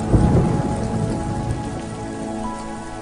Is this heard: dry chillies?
no